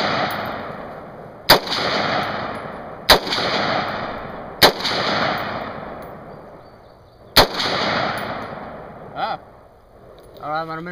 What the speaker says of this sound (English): Just gonna shoot some bowling pins, so hopefully I'll hit them.